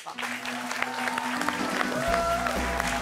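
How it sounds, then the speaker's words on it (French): A crowd claps steadily and continuously, a dense patter of applause with a voice speaking faintly underneath. "je vous demande d'applaudir"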